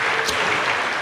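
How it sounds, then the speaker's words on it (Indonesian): A church congregation claps in a brief, dense burst of applause. "Dan kasih tepuk tangan dulu buat Tuhan kita."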